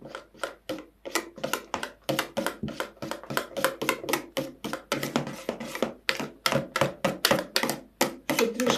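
A whisk beats cottage cheese with sour cream in a bowl, giving a steady, rapid run of close scraping and clattering strokes in an even rhythm throughout, with no talking.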